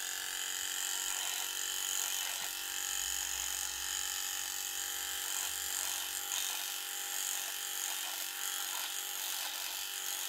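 A Limural electric shaver's trimmer runs with a steady, dense buzzing whir and faint intermittent catching, heard close and continuous with no talking.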